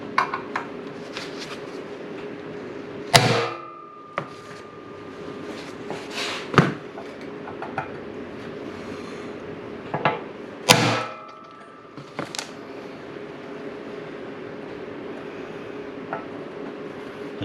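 A hammer taps a steel punch set in drilling dimples, deepening them before drilling: a few sharp, loud metallic strikes spaced several seconds apart against a steady background hum.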